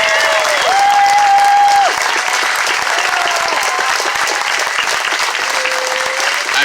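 Marchers at an outdoor protest against police brutality in the Boston area break into steady, dense applause, loud and close. Horn-like tones and a whistle ring out over the crowd noise.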